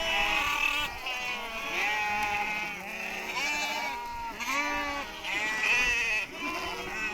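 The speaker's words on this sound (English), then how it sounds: "The goats can smell the water we are carrying in our car, and soon we are surrounded." A herd of goats crowds around a car in sweltering dry country, bleating loudly and continuously, several overlapping wavering cries close by.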